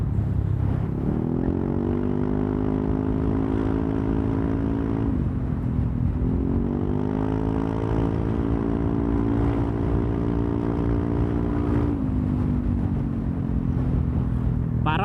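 A Yamaha New Aerox scooter fitted with a Best3 aftermarket exhaust, revving close by with a deep, bassy drone that rises and falls in pitch through repeated throttle pulls, loud and continuous without speech.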